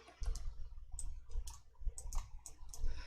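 Computer mouse clicks while working in an Excel spreadsheet: a quick series of small, close, crisp taps, about a dozen irregular clicks with no talking.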